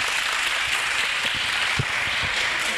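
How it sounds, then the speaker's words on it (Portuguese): Crowd applause at an evening event, a continuous, fairly loud wash of clapping hands with some low rumble underneath. "Uma salva de palmas."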